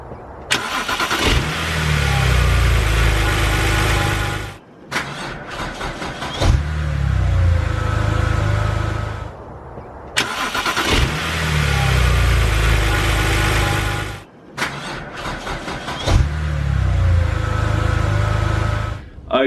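A BMW N52 engine fitted with a new starter motor cranks briefly and fires up, settling into a loud, close idle; the start repeats four times in a row with short silent gaps between.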